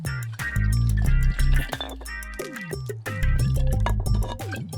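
Glass beer bottles clink together in a toast under a busy film soundtrack, with a dubbed Hindi movie's music and effects loud and continuous around the brief chinks.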